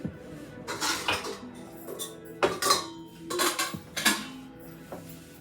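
Metal pots and pans for a double boiler clank and scrape in several separate bursts, close and fairly loud, with brief quiet gaps between handling sounds.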